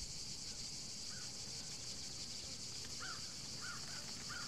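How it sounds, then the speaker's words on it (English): Crows caw several times in the island survival video game Die Young, with a steady insect-like buzz of crickets filling the background throughout; calls are moderately distant and brief. "coming over here is going to make noise from these birds"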